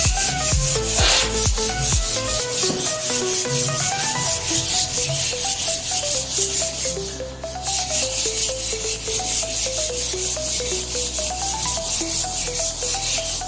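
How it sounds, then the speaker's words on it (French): Aluminium is rubbed and sanded by hand toward a mirror chrome finish, making a continuous close scraping rasp, with a repeating back-and-forth rhythm over music. "Jusqu'à obtenir un lissage, un polissage, un ponçage parfait."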